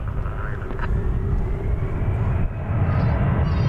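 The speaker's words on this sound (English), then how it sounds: "It is an Embraer 175." An Embraer 175 jet at DFW airport rumbles with a broad, steady roar of engine noise, loud and sustained with a slight rising whine near the end, no voices.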